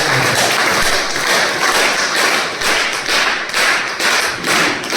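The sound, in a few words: audience applause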